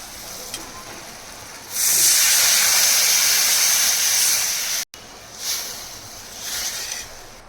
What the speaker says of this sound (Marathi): आता ह्याच्यामध्ये मी टाकून घेणार आहे पाणी